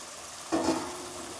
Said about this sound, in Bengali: এবারে আমি অল্প পরিমাণ জল দিয়ে দেবো।